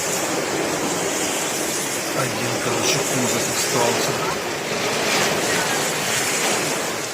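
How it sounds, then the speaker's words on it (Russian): Heavy rain pours onto a car parked in a cramped parking lot during a thunderstorm in Jesolo, Italy: a dense, steady roar of water close around, with someone talking over it. "Накрыло нас дождем, заехали на паркинг."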